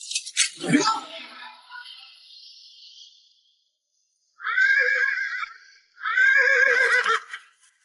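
A horse lets out a loud, trembling whinny that trails off, then after a pause two shorter neighing bursts follow close by.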